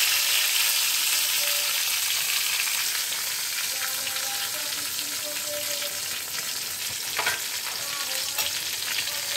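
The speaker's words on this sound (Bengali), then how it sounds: "এর মধ্যে দিয়ে দিলাম টমেটো" Tomato added to a pan frying in hot oil while cooking a stuffed patol dish, a continuous dense sizzle close up with occasional soft stirring knocks of a spatula, no voices over it.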